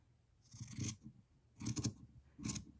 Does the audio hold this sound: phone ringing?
no